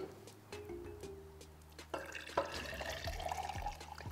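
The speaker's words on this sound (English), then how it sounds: "we're going to pour the vinegar into 3 of the glasses" Vinegar is poured into drinking glasses for a kids' egg science experiment, a faint, quiet trickle of liquid that rises in pitch as a glass fills, with a few soft clinks.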